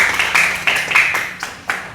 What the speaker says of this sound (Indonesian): tepuk tangan untuk Sarah Ulia